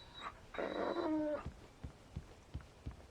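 A dog whimpers in the video game Alan Wake, giving a brief high whine and then a louder, harmonic cry. Several soft, low thumps follow at a steady pace.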